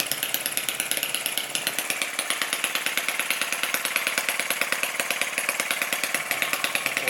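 A Lister D model stationary diesel engine runs steadily, its rapid even firing beats popping close and clear with a bright mechanical clatter, no voices over it.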